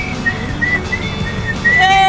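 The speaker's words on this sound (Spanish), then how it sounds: "Silba con comida en la boca." Breathy, wavering whistling with food in the mouth, short broken notes that sound muffled and unsteady, ending in a brighter sustained tone.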